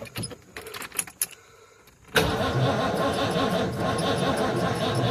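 A few scattered clicks and jangles, then an engine on a weak battery cranks and catches, settling into a steady rough idle that runs to the end.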